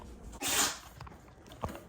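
A dog sneezes once, a short burst of breathy air, close and fairly quiet, followed by faint snuffling.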